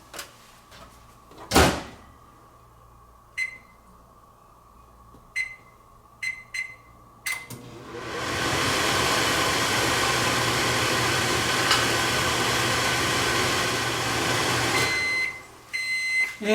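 A microwave oven baking a potato: a loud door thump, a few short beeps, then a steady loud hum from the oven running on high for several seconds before cutting off.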